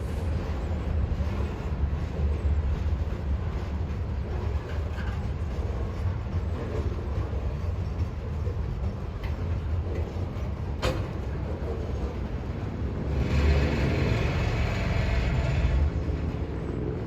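A long Norfolk Southern freight train rumbles by, a steady low roar with rattling that swells louder near the end.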